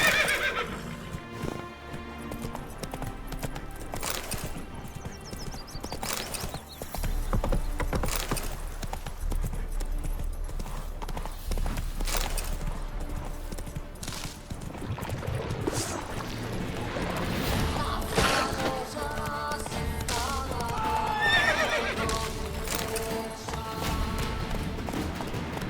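A horse gallops and neighs in The Witcher 3: rapid clip-clop hoofbeats run continuously, broken by several loud whinnies, with game ambience underneath.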